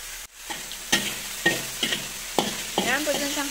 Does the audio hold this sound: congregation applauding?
no